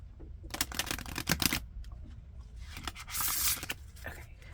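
Tarot cards being shuffled by hand up close: quick bursts of crisp riffling and flicking, then a longer papery rustle, with short pauses between.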